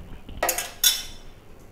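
Omelets are shifted from a pan into a bowl, giving two quick metallic clinks of utensil against cookware, close and distinct against near silence.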